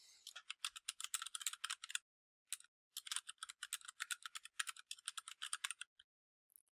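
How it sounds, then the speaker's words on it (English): Rapid keystrokes on a computer keyboard while a poster title is entered in PowerPoint, clicking in dense bursts with a brief pause, then a few final taps, close and clear with no talk. "Now I can start typing."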